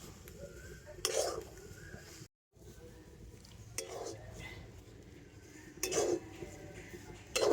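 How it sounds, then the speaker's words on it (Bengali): A spoon stirs stiffening semolina dough in a pan, producing intermittent scraping and clinking knocks against the metal every second or two over a quiet background. "এইভাবে নাড়তে নাড়তে সুজির ডোটা কিন্তু অনেকটাই টাইট হয়ে যাবে"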